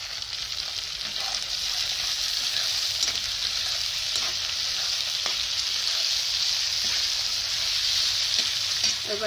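Onions frying in a hot pan give a loud, continuous, close sizzle, with faint stirring scrapes now and then, steady throughout with no talking.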